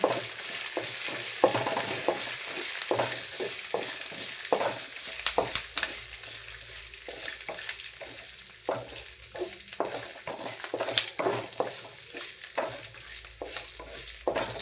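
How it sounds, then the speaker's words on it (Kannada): Sesame and fenugreek seeds fry in hot oil with a steady crackling sizzle, broken by frequent sharp pops and scrapes of stirring, close and fairly loud, with no talking. "ಒಂದು ಸ್ವಲ್ಪ ಮೆಂತ್ಯ ಕಾಳು ಇದನ್ನು ಸ್ವಲ್ಪ ಎಣ್ಣೆಯಲ್ಲಿ ಫ್ರೈ ಮಾಡ್ಕೊಬೇಕಾಗುತ್ತೆ"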